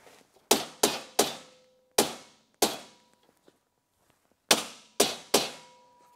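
A hammer knocks a BM Fabrications EXO rear bumper into place, with eight sharp metallic blows, each ringing briefly. The strikes come in a quick group of three, then two single hits, a pause, and another quick trio, close and fairly loud.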